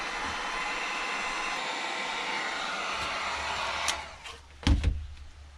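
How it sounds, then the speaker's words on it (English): A heat gun blows steadily on the plastic body of a Coolster 3050B 110cc quad, a continuous airy roar, then it cuts out into a few short knocks and handling sounds. "Just fire up the heat gun and not cook my fingers."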